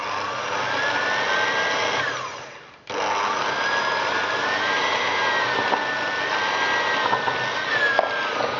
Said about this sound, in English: I'm just going to use a electric hand whisk, which we must start very slowly to start with and then get faster